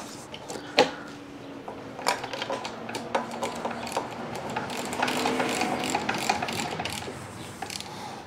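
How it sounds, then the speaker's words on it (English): Tightening a pinch bolt on a Yamaha YJ2 Campus 60 scooter with a hand tool: a close, dry ratcheting clicking in irregular bursts, with a sharper clack near the start and no voices. "get ready to tighten our pinch bolt"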